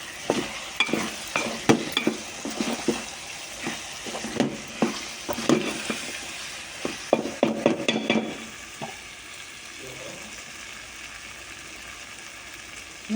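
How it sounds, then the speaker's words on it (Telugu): A curry simmering in a pan, with raw mango pieces added for sourness: repeated scraping stirs and clinks over a soft frying sizzle, then the stirring stops and only a quiet sizzle remains. "అలాగే మగ్గుతున్నప్పుడు మామిడికాయ ముక్కలు కూడా వేసుకుంటున్నానండి పుల్లదనానికి"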